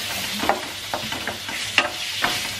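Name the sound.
chicken frying in a pan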